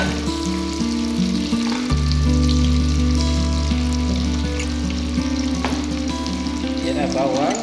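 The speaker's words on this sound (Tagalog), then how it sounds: "Lagay na naman natin ang bawang." Garlic sizzling and frying steadily in a pan while shrimp ginisang is cooked, a loud, continuous crackling close to the pan with occasional stirring scrapes and no talking.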